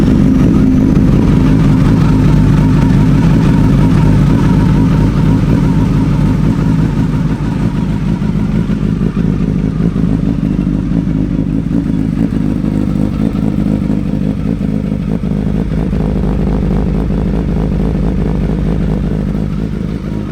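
Suzuki Hayabusa motorcycle with about 16,500 miles and a full Brox exhaust idling nearby, a loud, steady, gruff engine rumble with a faint clattering texture, holding evenly throughout.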